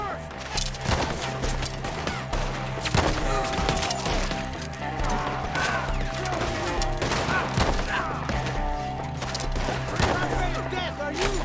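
Dense gunfire in a Red Dead Redemption 2 shootout with enemies perched up in trees: rapid overlapping rifle and pistol shots crack close and loud throughout, over a constant low musical score, with occasional shouted voices.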